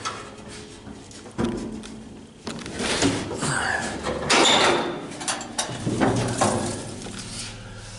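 A 1965 Ford truck hood is opened by hand, with a sharp metallic clunk followed by creaking, scraping hinge and latch noises over several seconds, close by.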